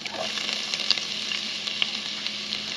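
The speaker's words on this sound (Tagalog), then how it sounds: "Gisa lang natin hanggang mag-brown" Garlic and onion sizzle steadily in melted butter in a pan, a continuous soft frying hiss with occasional small crackles and pops, close by and without talk.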